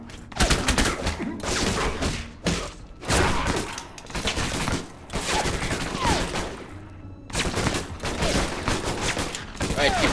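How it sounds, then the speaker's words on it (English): Enemy gunfire in the video game Alpha Protocol, bursts of rapid shots hitting a wall, loud and dense in repeated volleys with short pauses between them. "Right, keep shooting a wall. That'll get me."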